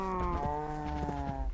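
A Minecraft cow lets out one long, steady moo that fills the whole moment, close and clear.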